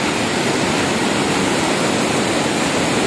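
Aliwagwag Falls in full heavy flow, a dense, steady roar of crashing water filling the scene with no break or other sound.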